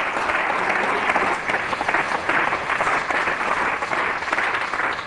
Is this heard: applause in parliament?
yes